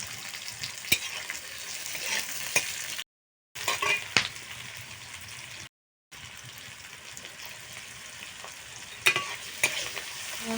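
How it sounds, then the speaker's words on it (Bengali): Chopped onions frying with a little salt in a pan, a steady close sizzle with occasional stirring scrapes, interrupted by two brief silent gaps, no talk. "পেঁয়াজ কুচিগুলো দিয়ে সামান্য পরিমাণ লবণ দিয়ে ভেজে নেবো"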